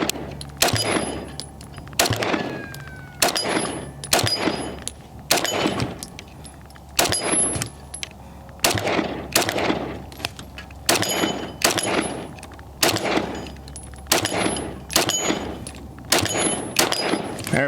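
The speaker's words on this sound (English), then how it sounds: "we're shooting that new steel target setup from War Labs" A Staccato C 4-inch 2011 pistol fires repeated shots at a War Labs steel target at 25 yards, each loud crack followed by a bright ringing ping of steel, coming in close, evenly spaced bursts.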